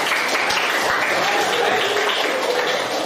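Classroom applause breaks out after a teacher's lesson, a steady wash of clapping hands that holds evenly for about three seconds.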